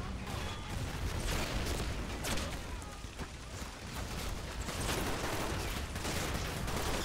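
Dense battlefield gunfire from the WWII strategy game В тылу врага 2, set in the 1944 Allied offensive in France: continuous rifle and machine-gun fusillades with scattered booms, loud and unbroken throughout.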